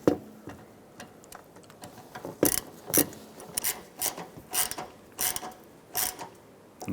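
A screw is driven into the plastic fender liner of a 2006-2013 Chevrolet Impala, giving scattered ratcheting clicks and rubbing scrapes in uneven bursts, close by and moderately loud.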